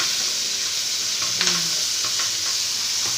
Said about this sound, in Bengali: একদম আমি হালকা করে ভেজে নিচ্ছি